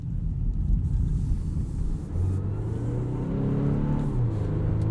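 A 2020 Volvo V60 T8 E-AWD Polestar engine pulls hard under acceleration, a steady low rumble with rising tonal harmonics sweeping upward as revs climb, heard continuously from inside the cabin with no talk.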